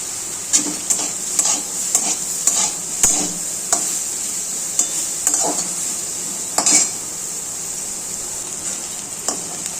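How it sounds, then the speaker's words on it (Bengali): Cauliflower frying in oil in a kadai, a constant bright sizzle punctuated by a regular series of sharp spatula clinks and scrapes against the metal pan. "এবার ফুলকপিটা ভেজে নিলাম"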